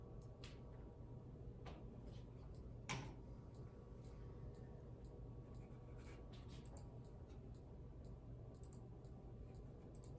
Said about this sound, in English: You'll hear it start clicking.